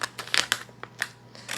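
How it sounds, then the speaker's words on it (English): ADA scissors snipping open the packaging of an ADA AP glass feeder with glass stand: several crisp, close cutting snips in quick irregular succession, fairly loud, with no talking. "Just use the ADA scissors here. Cut this open."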